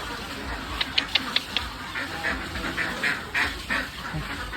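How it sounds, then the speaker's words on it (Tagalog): A crowd of ducks quacks at an egg-laying duck farm, with sharp, fairly close calls repeating irregularly over a continuous background din. "Puro itik."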